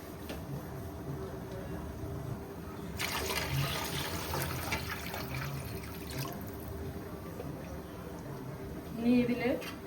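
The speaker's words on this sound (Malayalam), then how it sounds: "അപ്പോൾ നമുക്കിതിൽ 2 പാത്രം വെള്ളം വീട്ടാം." Water is poured into a pot of rice for chicken biryani, a faint running, splashing pour that starts partway through and continues steadily, with a quiet room tone around it.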